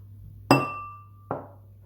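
Two glasses clink together in a toast, a bright ringing strike followed by a second softer clink under a second later, each tone ringing and fading in a quiet room.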